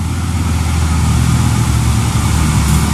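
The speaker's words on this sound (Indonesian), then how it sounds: "Langsung saja ada armada SBU Group Hino 500." A Hino 500 truck from the SBU Group fleet climbs a hill, its engine a loud, steady, low diesel drone that holds throughout with no break.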